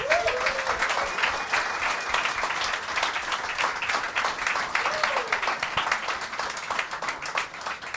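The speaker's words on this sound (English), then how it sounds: "so a huge round of applause" Audience applause fills the room after a music industry panel on unsigned artists and labels, steady and dense throughout, with a few voices and whoops rising briefly above the clapping.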